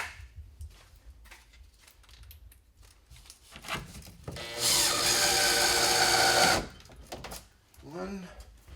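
A power drill drives screws into the front panel of a bathtub during a DIY tub installation. It runs in one loud, steady burst of about two seconds, with someone talking before and after it.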